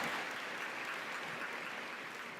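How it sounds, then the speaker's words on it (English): A school convocation audience applauds the mayor, a dense, continuous wash of clapping from a large crowd, steady and moderately loud, with no voices on top. "round of applause for the mayor, Mayor Ginther"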